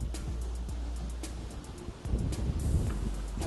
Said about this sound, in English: You can see it's a little windy today